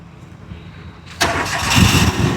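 A used car for sale at a dealer lot in Arcot cranks and fires up: quiet background, then a sudden catch as the engine starts about a second in, settling into a loud, rough idle.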